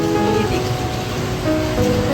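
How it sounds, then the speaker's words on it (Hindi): Light drizzle falls outside a home garden, a steady soft patter of raindrops close by with no talk. "बारिश की बूंदाबांदी की आवाज़ आपको आ रही होगी ना, मस्त वाली"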